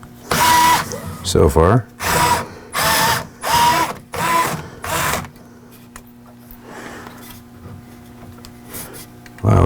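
A power screwdriver backs the screws out of the print head cover on a Creality K1C 3D printer: five short, close whirring bursts in steady succession, then a quieter stretch with faint talking.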